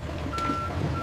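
A truck at a factory sounds a steady electronic reversing beep over a low background rumble, brief and moderately faint.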